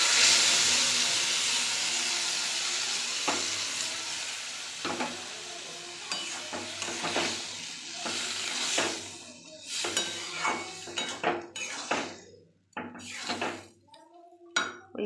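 Boiled lentils poured into a spice paste frying in oil for egg tarka, a loud hiss that fades into irregular close stirring scrapes and clatter of a spoon against the pot, with soft talk faintly mixed in.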